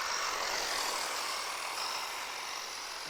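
Traxxas Slash 2WD RC car with a LiPo battery accelerating under more throttle, a steady high-pitched electric motor whine with broadband hiss that holds constant throughout, no voices.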